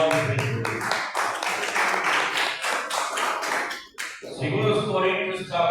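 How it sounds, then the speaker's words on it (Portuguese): Church congregation clapping during a worship service, a loud run of crowded hand claps lasting several seconds, with a brief dip near the end before the clapping resumes. "Palmas e glória a Deus."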